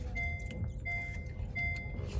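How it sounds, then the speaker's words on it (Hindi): A car reverses on a street, its reversing beeper chirping in regular high tones over a low engine rumble, heard close and with no talking. "वो एक सेकंड गाड़ी रिवर्स करने दे मुझे."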